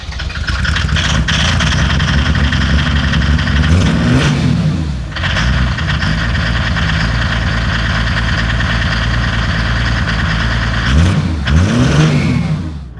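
An old car fitted with an HX40 turbo and an 8 mm injection pump runs close up with a loud, heavy idle. It is revved a couple of times, and each rev rises and then falls back to a rough rumble.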